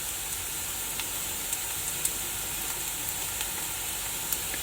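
Onions frying in a pan with spices being added for Rajasthani daal, a steady close sizzle and hiss with small crackles, no talking.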